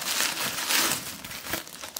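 Plastic packaging around a CollectA horse figurine crinkles and crackles up close as it is unwrapped, in continuous rustling handling with a few sharper crumples.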